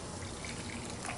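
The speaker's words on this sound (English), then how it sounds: "I'm going to pour some in this glass here just so you can see" Mesquite bean coffee is poured into a glass, making a brief, steady liquid trickle and splash that stays soft and continuous for about a second.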